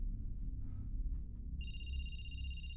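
A telephone rings in a video game, an electronic warbling ring that begins partway through and continues steadily over a low droning background.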